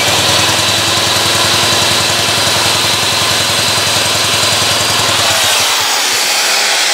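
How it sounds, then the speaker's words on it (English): An outboard motor's lower unit, from a 15 hp Johnson, spun over by hand in a test tank gives a steady mechanical whir with fast rhythmic pulsing over running-motor noise, then slows and trails off near the end. "I put it back kind of in the tank and I spin it over."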